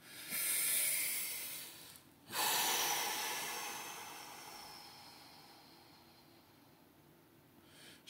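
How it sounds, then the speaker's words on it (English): Slow, deep breathing during relaxation: two long airy breaths, each swelling quickly and fading slowly, close and alone without talk. "So slow your breathing down."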